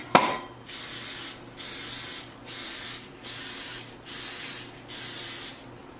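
Repeated short bursts of cooking spray onto a muffin pan, six or so hissing blasts in a steady rhythm, close and loud, with brief pauses between.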